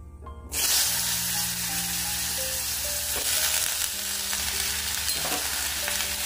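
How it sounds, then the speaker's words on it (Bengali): Flat beans frying in hot oil with turmeric and five-spice seasoning, a steady loud sizzle that bursts in after a brief quiet start and carries on, with faint stirring scrapes on top. "এবার একটু ভালোভাবে সিমগুলো তেলের মধ্যে ভেজে নেব।"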